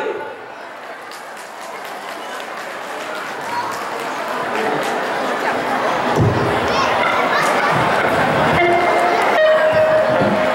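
A crowd at a Lunar New Year church concert applauds the bass guitarist, the clapping swelling steadily from moderate to loud, with scattered chatter and a few knocks mixed in.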